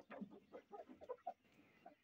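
A village chicken clucks in a series of short, uneven calls close by, with brief pauses between bursts and a few louder notes.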